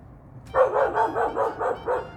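A neighbor's dog barks repeatedly in a steady rhythm, about seven sharp barks in quick succession, fairly close and loud.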